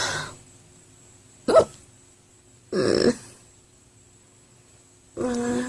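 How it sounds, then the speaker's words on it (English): A run of three loud, abrupt hiccups, evenly spaced and alone, each a sharp voiced catch with quiet room between them. "I think these hiccups, they seem to be lasting a long time"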